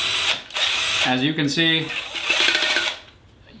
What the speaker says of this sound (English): We put a rod in the middle of it and hooked it up to an electric drill.